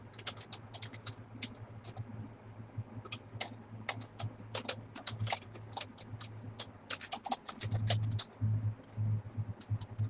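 Fingers type quickly on a computer keyboard, producing a stream of light, irregular clicks in uneven bursts over a steady low electrical hum.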